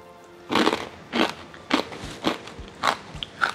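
Crispy homemade chakli snack being bitten and crunched, six or seven sharp, crackly crunches spaced about half a second apart, close and fairly quiet with no talking.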